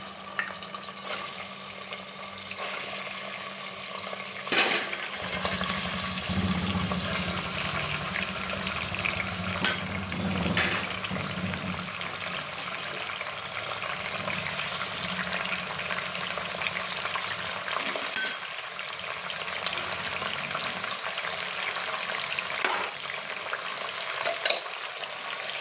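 Mutton pieces sizzle and fry in a pot for korma while being stirred, a steady crackling hiss running throughout with occasional louder scraping stirs, no talking.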